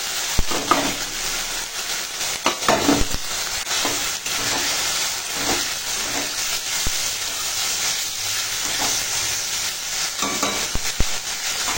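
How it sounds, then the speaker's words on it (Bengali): Marinated prawns hit a pan of tomato, ginger and garlic with a loud, steady sizzle, broken by close, repeated scrapes and clanks of a stirring spatula, with no talk. "এবার দিয়ে দেব মেখে রাখা চিংড়ি মাছ।"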